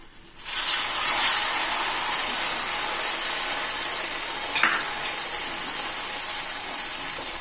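Raisins, cashews and cardamom frying in hot ghee in a small pan for temple-style sweet pongal, a loud steady sizzle starting abruptly and holding throughout, with a brief stir or clink midway.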